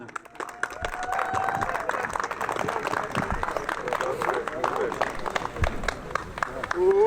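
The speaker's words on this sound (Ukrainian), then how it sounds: "Ще раз оплески переможцям." Applause for the winners of a city mayor's open mini-football cup held in support of the armed forces, steady crowd clapping filling the whole stretch, with voices and a brief whistle-like tone mixed in.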